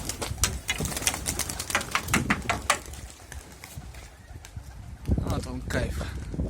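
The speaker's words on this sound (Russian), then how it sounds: "Вот так вот срывается голуби у нас." Pigeons burst into flight outdoors in November, a flurry of flapping wings in repeated bursts, some close and loud, with people talking over them.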